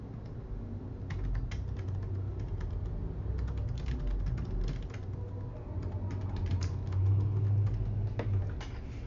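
Rapid, irregular key clicks from a computer keyboard as a name is typed for a saved real estate property search, fairly close and steady over a low background hum.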